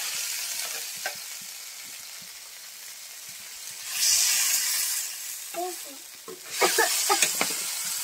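Tomato curry sizzles and crackles in a frying pan as it is stirred, with the hiss swelling in louder bursts and faint voices briefly heard in the background.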